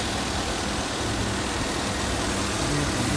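A 6.2 liter V8 in a 2014 GMC Yukon XL AWD idles steadily with the hood open, a close, continuous low rumble that holds even without any change in pace.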